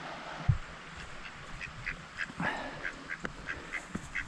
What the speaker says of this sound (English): Through the ducks, I think they're going to get fed